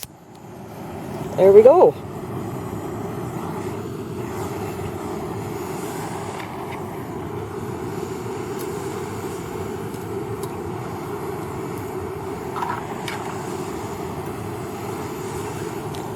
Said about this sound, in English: That's the isobutane escaping.